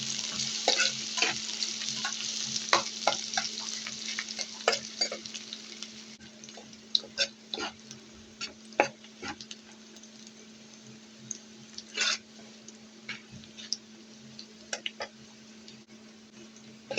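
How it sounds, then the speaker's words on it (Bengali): Onion and garlic fry for red lentil dal in a pan, giving a steady close sizzle broken by frequent sharp stirring clicks and taps against the pan, with a low electrical hum under it and no speech. "এই যে আমার পেঁয়াজটা ভাজা হয়ে গেছে"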